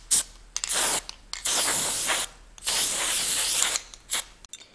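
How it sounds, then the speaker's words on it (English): Three long hissing bursts of aerosol brake cleaner, each lasting about a second, with short pauses and faint clicks between them. "I'm just spraying it down with some brake clean."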